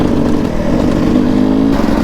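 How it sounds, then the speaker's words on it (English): Two-stroke motorcycle engine giving a short throttle blip on a ride through Spain, a loud, steady buzzing drone close by with no talking. "little squirt on that 2-stroke"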